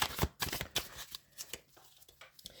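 Tarot cards are shuffled up close in quiet, quick riffling bursts with brief pauses between them.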